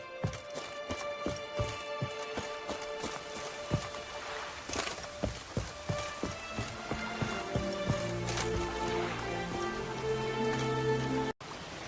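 Rain falls steadily in The Witcher 3: Wild Hunt and patters softly under a horse's clip-clop hooves, with music rising over it.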